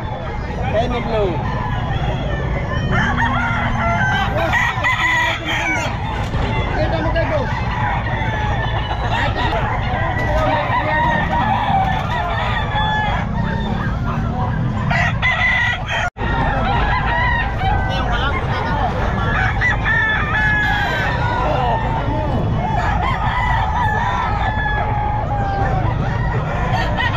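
Roosters crow and hens cluck among Henny Blue chickens at the busy Bocaue pet market, with repeated crowing calls near and far amid ongoing chatter of sellers and buyers.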